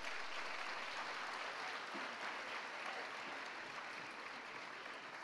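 Applause for the women of a school fills the space as a steady, distant wash of clapping from a crowd at a graduation ceremony, even and faint throughout with no talk over it.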